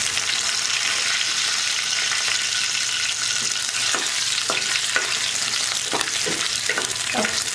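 Curry leaves sizzle and crackle in hot oil for a bread pakora filling, a steady close frying hiss with sharp pops and spatters scattered through the second half, no voices.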